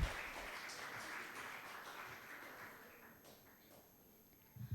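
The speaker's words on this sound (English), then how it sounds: "Let's welcome number 17 with a huge round of applause." An audience in a hall applauds a contestant at a talk competition, a fairly faint spread of clapping that slowly fades, with a few louder claps at the end.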